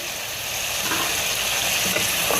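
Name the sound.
meat frying in a pan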